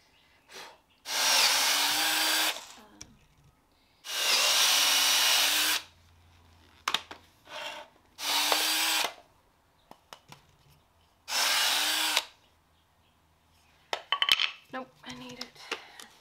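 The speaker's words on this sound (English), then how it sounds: "My drill does not like pocket holes." Several loud bursts of a power drill boring pocket holes into wood, each lasting about a second or two, with small clicks and handling noises between them.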